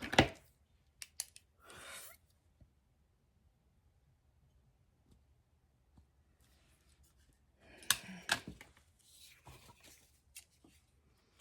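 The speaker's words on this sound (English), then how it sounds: "We're going to cut that off." Scissors snipping through paper while trimming pages of a Little Golden Book for a junk journal, with short bursts of close cutting separated by long quiet gaps.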